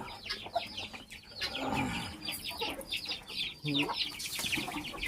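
A hen clucks repeatedly in a farmyard while searching for a spot to lay eggs, giving uneven bursts of nearby cackling and clucks with other faint fowl sounds around.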